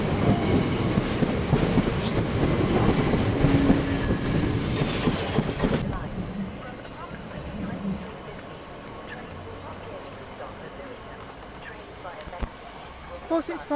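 Train passing through Sevenoaks station bound for London Charing Cross, a loud rushing rumble of wheels and carriages close by for several seconds before it drops to a quieter background hum and faint station sounds.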